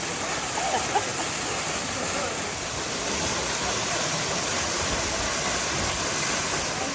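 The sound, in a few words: waterfall in Dominica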